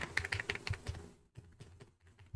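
Computer keyboard typing in quick bursts of close, crisp key clicks with short pauses, then a sparser, quieter stretch of taps near the end.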